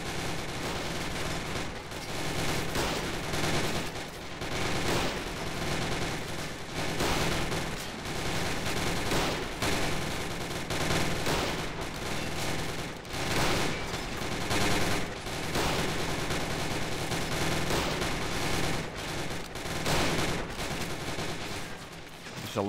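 Troops fire in the Men of War Planetside 2 mod, a sustained battle din of rapid gunshots and overlapping bursts that keeps loud and dense throughout.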